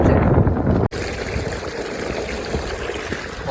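Fresh spring water runs and trickles steadily close by, a continuous gentle stream sound with some wind noise, briefly interrupted by a short dropout near the start.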